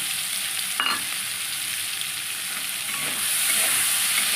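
Sabu pulao with tomato skins is stirred while frying in a kadai, producing a continuous close sizzle with a few faint clinks of a spoon against the pan. The frying grows slightly louder toward the end, with no talking.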